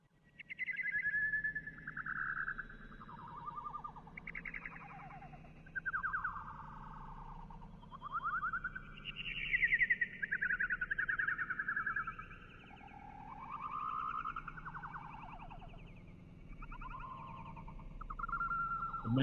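Warbler song played back at half speed, a slow series of gliding, warbling whistled phrases in loose bursts over faint background hiss, near and steady for the full length.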